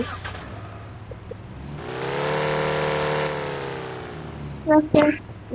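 A car engine in the driving game Car Simulator 2 revs up into a steady rising whine and then fades back down, with a few short sharp sounds near the end.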